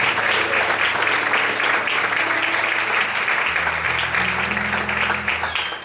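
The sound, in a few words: congregation applauding loudly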